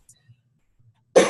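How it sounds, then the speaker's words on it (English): A single short cough bursts out near the end of a quiet stretch during an online 4-H orientation session, close and fairly loud after near silence. "And excuse me if I cough."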